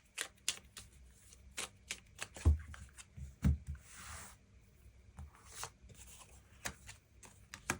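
Tarot cards shuffled and drawn, with brisk riffles and soft flicks and slaps at an uneven pace, close and quiet with no talking.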